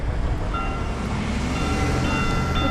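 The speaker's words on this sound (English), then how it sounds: "The train is, it looks like it's going backwards." A train rolls past on the rails, a loud, steady rumble with low rail noise and faint metallic squeals throughout, heard up close with no talking.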